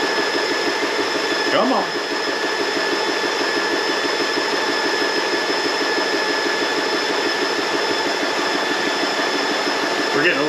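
A JTS Personal Airgun Compressor, 4500 psi with auto shutoff, runs loudly and steadily with a constant mechanical drone and high whine, while a voice speaks briefly over it.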